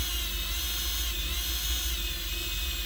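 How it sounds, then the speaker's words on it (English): Steady whine of a power drill running at about half trigger, slowly pulling a cord through windshield urethane along the glass, continuous and close with no pauses. "You have to make sure you're using a strong enough drill, because if you're not, you won't pull through that urethane"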